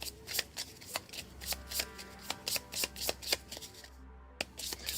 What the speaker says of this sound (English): Shuffle the objective cards.